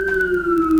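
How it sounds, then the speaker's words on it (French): An ambulance or police siren sounds on a Montreal street, a steady two-tone wail sliding slowly downward, fairly loud and continuous with nothing else over it. "Ah, les joies de Montréal, on entend toujours des ambulances ou des polices."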